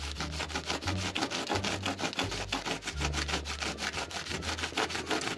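A knife saws back and forth through chocolate in quick, steady, rasping strokes, close up, with no voices.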